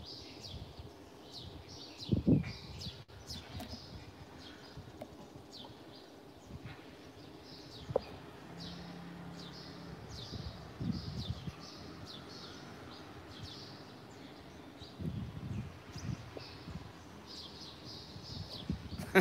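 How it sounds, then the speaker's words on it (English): Birds chirping and calling in a quiet, serene spot in Nakhon Phanom, Thailand: scattered short tweets at a moderate distance, repeating over a soft background rustle with occasional faint thumps. "It's so peaceful and so it's just serene, and all you hear is the birds pretty much."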